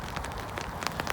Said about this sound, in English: Excuse any noise of the wind and rain.